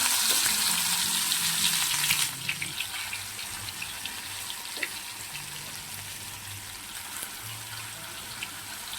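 Jackfruit seeds frying in hot oil, a loud, steady broadband sizzle that is strongest at first and then settles into a softer continuous crackle with occasional pops, without any talk.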